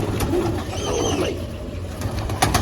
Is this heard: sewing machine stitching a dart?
no